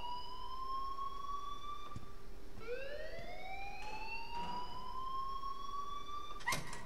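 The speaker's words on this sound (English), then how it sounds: "Please turn off that alarm since that's your job." An alarm in the Life is Strange video game wails continuously, a rising and falling siren-like tone with bright harmonics that sweeps up sharply midway and holds loud throughout, with no talking over it.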